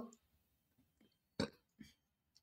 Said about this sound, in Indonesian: sorry sendawa